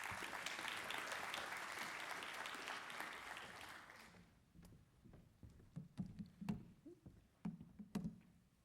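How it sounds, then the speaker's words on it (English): A conference audience claps steadily for about four seconds after a keynote, then the applause thins into scattered bumps and shuffling noises. "a round of applause for Richard Hills"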